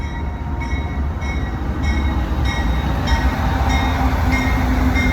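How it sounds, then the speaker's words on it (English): A full-size railway train rolls past nearby. It makes a loud, steady rumble with regularly spaced wheel clicks that builds slightly as it passes, and no one talks. "Oh, it's a real train this time,"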